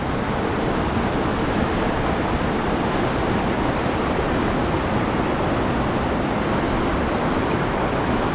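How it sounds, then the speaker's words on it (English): A rushing river in the woods, running high after rain near a campsite in Yoho National Park, British Columbia, gives a steady, loud, broadband roar with no breaks or voices. "This is a rushing river, and in fact I think it's a little bit higher than yesterday with the rain."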